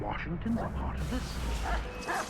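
Dog barking and yipping in Assassin's Creed III, a few short barks heard near, mixed with game sounds and someone talking over it.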